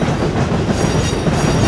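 A simulated Vande Bharat train runs along the Visakhapatnam route in Trainz Simulator. It makes a loud, continuous rolling rumble with rhythmic clickety-clack of wheels on rail joints, close and alone, with no talk.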